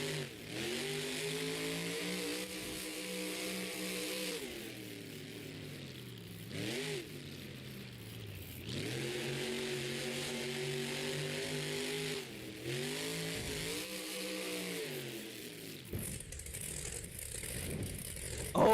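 A Monster Jam monster truck at an Indy Series show in Lamar roars through repeated loud revs, its engine pitch sweeping up and down in long surges with brief drops between bursts, close and dominant with crowd-like noise beneath.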